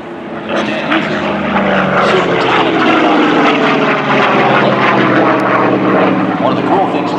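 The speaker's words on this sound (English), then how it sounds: "It is a big barrel roll." A propeller plane roars loudly overhead doing a big barrel roll, its engine drone shifting in pitch as it maneuvers, with a voice faintly audible beneath the noise.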